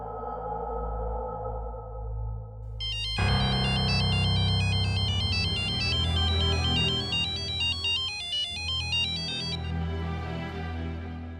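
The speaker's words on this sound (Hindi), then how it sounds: "तुम्हारा फोन है?" A mobile phone ringtone plays a loud, repeating electronic melody for several seconds, starting abruptly over a low background hum during a scene in a Hindi crime drama.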